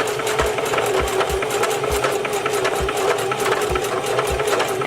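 A sewing machine stitches hair extension tracks, running steadily with a fast rhythmic needle chatter and a regular low thump, close and continuous throughout.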